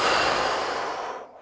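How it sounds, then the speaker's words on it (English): A single long breath out through the mouth during a fascial release exercise, a loud, close, airy rush that fades away at the end. "Breathe out. Breathe in. Breathe out."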